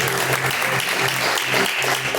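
Joyful rhythmic clapping from a church congregation during a worship service, a steady dense patter of many hands without pause, moderately loud and close.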